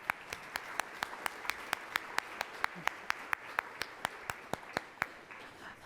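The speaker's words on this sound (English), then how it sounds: "we want to thank all of our sponsors with a round of applause." Applause at a downtown development event thanking its sponsors, heard as sparse, evenly spaced single claps, faint and regular, like one nearby person clapping steadily.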